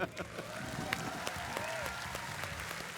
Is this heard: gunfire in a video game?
no